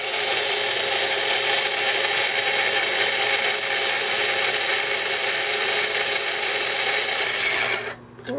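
A kitchen blender purees a marinade of cayenne pepper and basil for tri tip, a loud, steady whirring roar that runs unbroken for most of the clip and then cuts off abruptly near the end.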